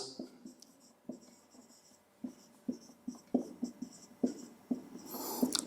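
Chalk or marker taps and scratches on a board during a physics lecture on vectors, a string of sharp close strokes coming in irregular bursts with short pauses between them and no talk.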